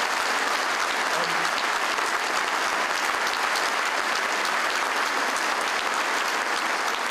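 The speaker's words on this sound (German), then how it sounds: "Tosender Beifall für diese Ankündigung, Standing Ovations am Ende der Rede" Thunderous applause and a standing ovation at a CSU New Year's reception in Memmingen fill the whole stretch, a dense, steady roar of clapping from a large crowd with no break and no voice rising above it.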